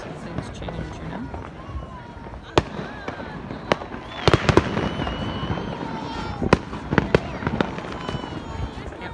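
Fireworks burst all around on a July 4th night during the pandemic, with sharp cracks and pops at irregular intervals, some near and loud, others distant, over a steady background rumble, with a voice speaking.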